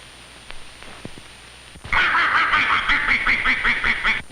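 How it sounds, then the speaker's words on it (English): Ducks in a rabbit yard scold beneath the hutches. After a few faint knocks, a loud run of close, rapid quacks starts abruptly and keeps going. "the ducks amble around, scolding and hunting for any food that may drop"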